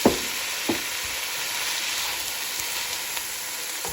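About a pound of chicken Italian sausage sizzling and frying steadily in a pan, a constant crackling hiss with a few soft clicks of stirring, no voices.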